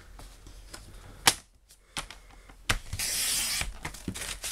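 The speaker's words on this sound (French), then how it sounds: "Avec le massicot." A guillotine paper trimmer cuts through paper, giving several sharp chopping strokes and a rasping slice over a steady background hiss, heard close with no talking.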